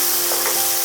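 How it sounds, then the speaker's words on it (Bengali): Dry spices, chilli powder and Kashmiri red chilli powder, sizzling in hot oil for a chicken roast, a steady close hiss with a soft stir partway through, no voices. "এরপরে শুকনো মশলাগুলো একটু নাড়াচাড়া করে নিচ্ছি।"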